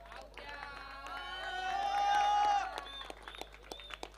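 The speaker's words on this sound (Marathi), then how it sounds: "अनिकेतसाठी जोरदार टाळ्या नक्कीच झाल्या पाहिजेत." An audience at a cricket tournament prize ceremony claps, the applause swelling to a peak and then thinning into scattered claps while a voice speaks over it.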